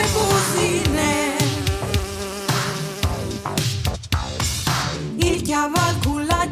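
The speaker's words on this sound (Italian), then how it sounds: "In te chiese di catine e une mosche che busine." A fly buzzes inside a church, a loud, continuous, dense buzzing with wavering tones that fills the space without pause.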